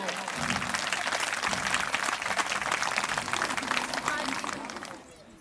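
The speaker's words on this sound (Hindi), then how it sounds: "जोरदार एक बार तालियां हमारे अतिथि देवो भाव" Audience applause for guests at a Bhagavat Katha religious gathering, with a dense, steady wash of many hands clapping for about five seconds before it fades out abruptly near the end.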